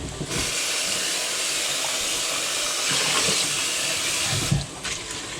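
Water running from a kitchen tap into a sink while a pan is washed, a steady loud hiss of flow with a brief clatter near the end and no talking.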